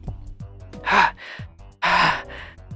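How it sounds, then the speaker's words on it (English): Two loud, breathy inhale-exhale cycles, heavy panting up close, with faint low thumps between breaths. "Heavy breathing can be heard from the other line."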